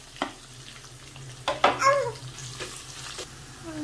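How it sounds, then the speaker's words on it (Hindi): Onions fry with whole spices in a pan, a moderate sizzle with a few stirring scrapes and splashes, close up and without speech. "अब इसके बाद हमने इसको प्याज को ऐड कर देना है"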